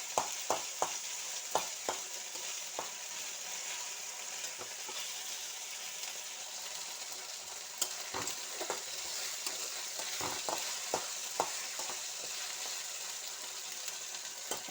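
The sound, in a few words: spice paste being sautéed for fish curry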